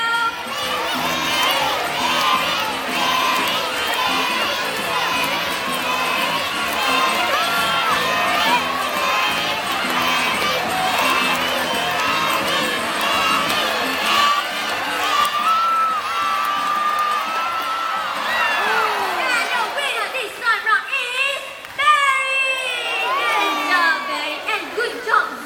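A crowd at a bird show at Jurong Bird Park cheers and shouts for a racing bird, with children's voices loud among the steady, excited roar across the whole stretch before it thins near the end.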